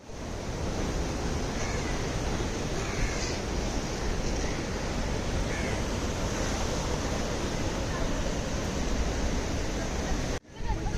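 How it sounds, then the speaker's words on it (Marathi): Strong sea waves surge at Dona Paula beach in Goa, a loud, continuous broadband roar of surf with wind buffeting the microphone, steady throughout with a brief dropout near the end. "खूप पाण्याच्या लाटा येत आहेत जोर जोरामध्ये"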